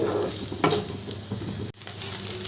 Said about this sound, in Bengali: ভালোভাবে নেড়ে চেড়ে সব কিছু মিশিয়ে নিচ্ছি